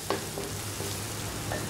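Ginger garlic paste frying with onions in a pan for a chicken brinjal curry, a steady close sizzle with a few soft stirring clicks.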